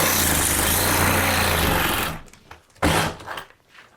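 A power saw with a worn old blade cuts through a shower wall during alcove demolition, a loud rough whining buzz for about two seconds, then cutting off into a few short bursts and scrapes.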